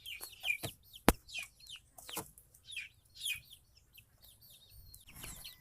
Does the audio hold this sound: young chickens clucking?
yes